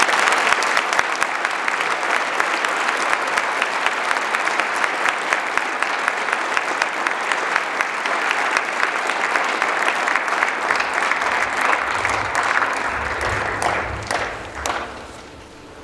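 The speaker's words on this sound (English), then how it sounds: "May I please have a sturdy round of applause for our teaching staff." A school speech day audience gives the teaching staff a sturdy round of applause, dense and steady clapping from a large crowd that carries for about fourteen seconds before fading out.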